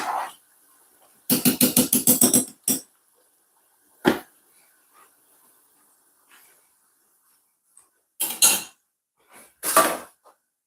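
A spoon scraping and clinking against a pot while stirring rice, in a quick run of rhythmic strokes followed by a few isolated taps and scrapes separated by quiet pauses.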